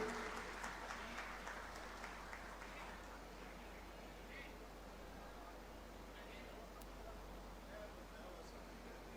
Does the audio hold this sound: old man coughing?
no